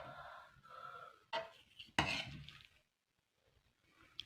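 Soft kitchen handling noises of onion chives being folded into pancake batter, with a few clear knocks and scrapes of a utensil against the mixing bowl, then a near-silent pause.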